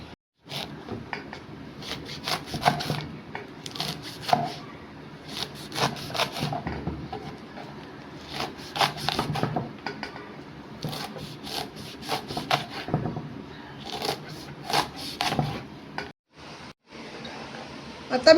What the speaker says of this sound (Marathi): आता मी सर्व भाजी कापून घेणार आहे